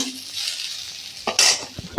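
Food frying in a pan on a home kitchen stove, a steady close sizzle with brief louder scrapes of stirring near the end.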